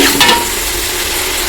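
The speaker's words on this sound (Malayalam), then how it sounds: "ആദ്യം ഇത് നന്നായി വഴങ്ങിയിട്ട് നമുക്ക് ഇഞ്ചി ഇട്ട് കൊടുക്കാം" Garlic and ginger being stirred and sautéed, a loud close sizzle with a quick scraping stir at the start that settles into a steady frying hiss.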